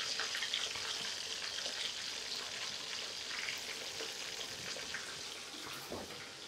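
A breaded pork schnitzel fries in plenty of oil in a pan, giving a soft, steady sizzle with scattered crackles and pops, quiet and with no talk.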